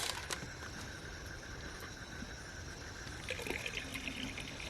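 Date palm sap seeping out close to the ground of a small tree and trickling into a pot in a village, heard as a soft, steady liquid trickle with faint drips.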